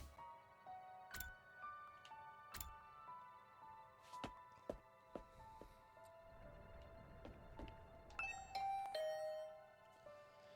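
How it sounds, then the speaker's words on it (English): A doorbell chimes in The Hundred Line: Last Defense Academy, bright ringing tones sounding several times with sharp ticking clicks between them, quiet and clear with no talking. "I rang the doorbell and I could hear the bell ring on the other side of the door."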